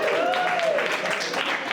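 A small summer-program audience gives a brief burst of clapping while a voice speaks over it.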